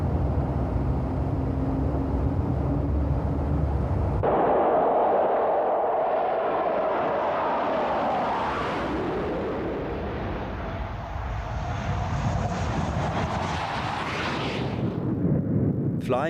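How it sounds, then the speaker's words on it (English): A Hawker Hunter jet fighter's engine is started while the aircraft is towed out of a mountain shelter during a scramble, a loud continuous roar that rises and builds with a rising whine and sweeping tone changes. "the aeroplane is pulled out of the shelter and the engine is started during the tow"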